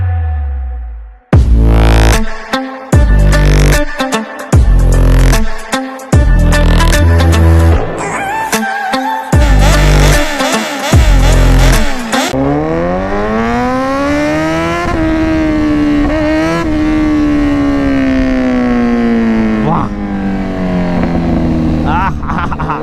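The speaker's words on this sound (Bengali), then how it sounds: "ব্যাকফায়ার আওয়াজটা ভাই আলাদাই আওয়াজ" A motorcycle revs hard, throwing a rapid string of sharp backfire pops and blasts, then settles into a loud rising and falling engine whine as it rides off, close and dominant.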